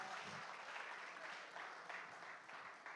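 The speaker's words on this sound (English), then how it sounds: "A round of applause." An audience at a World Youth Skills Day event gives a continuous round of applause, a broad, even patter of many hands heard at a distance for a few seconds.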